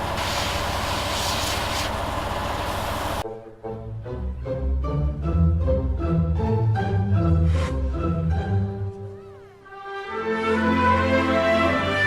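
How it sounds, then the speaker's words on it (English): An airbrush compressor runs with a loud, steady mechanical hiss and hum for a few seconds, then cuts off abruptly, followed by a mix of layered tonal sounds. "That is the airbrush compressor."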